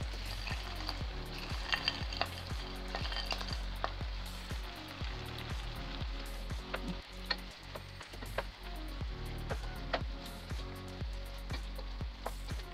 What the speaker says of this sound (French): Faites revenir avec tout ce qu'on a mis au début. Et on va mettre aussi, on va incorporer des crevettes crues.